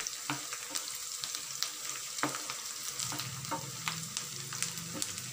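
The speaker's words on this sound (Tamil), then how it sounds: "நறுக்கி வச்சிருக்க வெங்காயம் பச்சை மிளகாய் சேர்த்து நல்லா வதக்கிக்கங்க" Oil sizzles and crackles steadily as chopped onions and green chillies are fried and stirred in a pan, with scattered sharp pops and occasional scraping, no voices.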